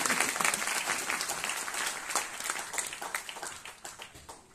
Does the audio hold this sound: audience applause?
yes